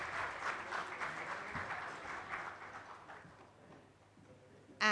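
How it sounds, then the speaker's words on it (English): Applause from a small audience at a chemicals and petrochemicals summit, steady clapping that gradually fades toward the end, fairly distant and moderate in level. "can we extend a louder applause?"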